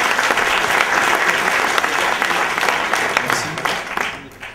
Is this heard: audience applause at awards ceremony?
yes